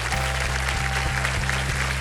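Audience applause greeting guests on a Hindi talk show, a dense burst of clapping from a crowd, loud and continuous for the whole moment.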